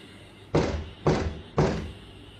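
A door is knocked on three times in an even rhythm, each knock a loud, sharp thump that fades quickly, close by and with nothing else heard.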